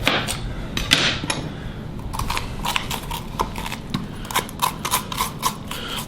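Membranes being scraped out of bell peppers with a utensil, heard as a series of close, uneven scraping and knocking clicks against the pepper and a hard surface, no voices.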